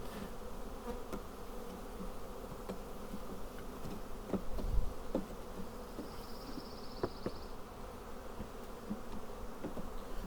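Honeybees buzz steadily around an open hive during a spring hive reversal, a dense continuous drone with a few louder bees passing close and a brief bump near the middle.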